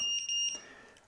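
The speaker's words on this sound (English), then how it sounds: "Apologies for all of the really loud beeping." Loud, high electronic beeps from a quadcopter flight controller during INAV 3.0 setup, several short tones in quick succession, then a fading ring in a quiet room.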